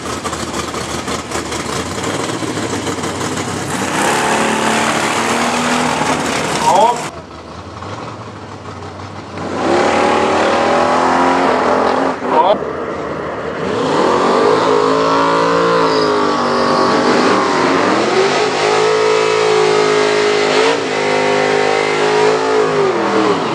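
Drag racing cars launch down the strip at Helsinge Open, loud engines roaring and revving in long bursts, with a brief lull between runs before another car thunders off.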